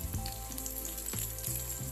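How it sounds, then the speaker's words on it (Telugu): Green chilies and onions sizzle in a pan, a soft steady frying hiss with a few faint crackles and pops, fairly quiet and close. "ఆనియన్స్ కొద్దిసేపు ఫ్రై చేసుకున్న తర్వాత గ్రీన్ చిల్లీ వేసుకుందాం"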